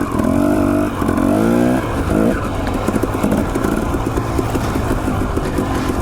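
A dirt bike rides an Idaho trail, its engine revving loud and close, rising and falling with throttle changes and bouncing over rough, sidehill ground.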